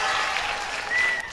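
Loud, steady applause from an audience at an Adivasi Day cultural programme, a dense continuous roar of many clapping hands filling the whole moment without a break.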